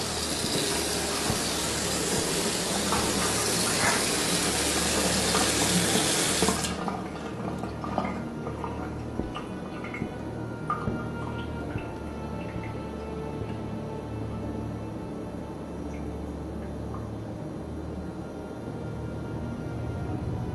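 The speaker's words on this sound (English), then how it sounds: "Oh my God, the water just turned on." Water gushes loudly from a tap for several seconds, then cuts off to a quieter trickle and soft drips in a room.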